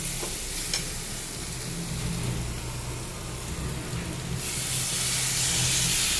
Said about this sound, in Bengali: ভাজা হয়ে গেছে, এবার ঘন্টটাতে জল দেবো, মোচার ঘন্টটাতে জল দিয়ে দেবো।